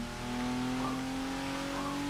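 Ford Raptor truck engine in Forza 6 Apex, a steady droning rev held at constant pitch, moderately loud and continuous with no voices.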